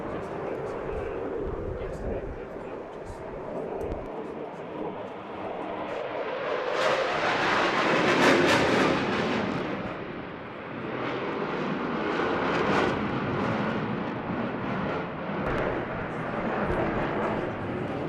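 An RAF Typhoon fighter jet roars through a hard-worked airshow display at Eastbourne, its engine noise swelling loud and broad mid-pass before easing into a steady distant rumble, with a commentator talking over it.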